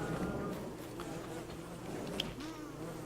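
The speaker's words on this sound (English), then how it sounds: "Oh wow, the bees killed one." Bees buzz in a swarm in the video game Don't Starve: Reign of Giants, a steady insect drone with wavering tones that holds for a few seconds over a soft game background.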